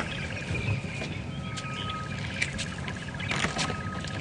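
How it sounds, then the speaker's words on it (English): Several wild birds call and chirp at a distance in the bush at Djuma Game Reserve during a morning safari drive, over a soft outdoor hiss, with scattered short tweets and a few sharper calls. "You can hear all the bird sounds."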